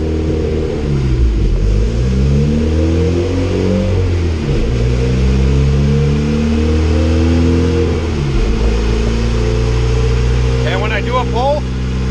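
Boosted Honda Civic engine revving on a dyno, loud close engine with repeated rising and falling rev sweeps and deep harmonic rumble, ending in a brief higher chirp.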